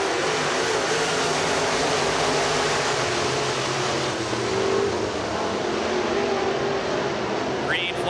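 Race cars in a UEMS heat race at Pennsylvania Motor Speedway in Pittsburgh roar steadily, a dense, loud engine wash from the pack on the track with no breaks, and a voice talking faintly over it.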